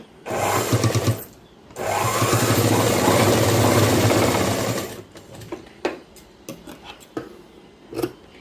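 A sewing machine stitches a boy's school uniform shirt in short bursts: a brief run, a pause, then a longer steady whir lasting about three seconds, followed by quiet clicks and cloth handling.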